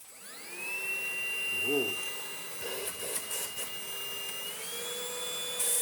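An Easine G50 cordless vacuum cleaner with edge brushes spins up with a rising whine, then settles into a steady high-pitched motor hum close by, with a brief exclamation from a voice.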